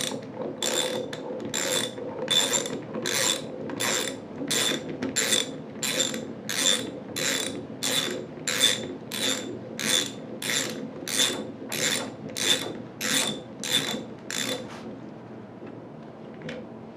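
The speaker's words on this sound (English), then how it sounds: "a torque wrench should be used to ensure that adequate installation torque is applied" A ratcheting wrench threads an ICC check valve carrier into its cavity, giving about twenty evenly spaced, crisp clicking strokes, close and clear, before stopping.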